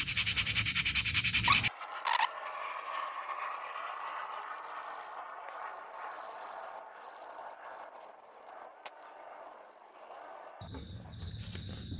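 A wooden swimbait is sanded by hand with 120 grit sandpaper, giving a soft, steady rubbing scrape that continues for about nine seconds between brief handling noises at the start and end.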